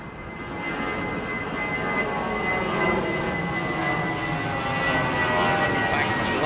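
An American Airlines airliner departing runway 27L at London Heathrow gives a steady, broad engine roar that holds loud and even throughout, with faint voices underneath.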